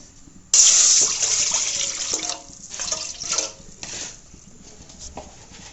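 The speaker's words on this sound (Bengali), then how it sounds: "চুলে আমি পাতিলে আগে পানি দিয়ে দেব।" Water pours suddenly from a tap into a pot, a loud rushing splash that eases into a softer, uneven trickle.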